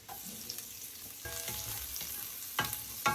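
Garlic and onion fry in oil coloured with annatto for Filipino kare-kare, giving a soft, close sizzle broken by a few sharp stirring clinks and scrapes that grow louder near the end.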